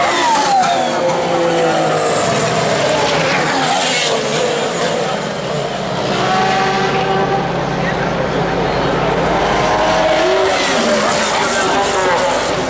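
F1 cars from the video game F1 2014 running on the Monza circuit, engines whining and shifting continuously at close range under steady commentary, with pitch sweeps as cars accelerate.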